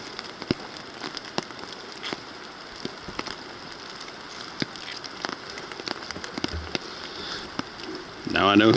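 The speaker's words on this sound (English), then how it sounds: "Even in the rain." Rain falls on a woodland trail as a steady soft patter with scattered sharper drops, and a brief louder rustle arrives at the very end.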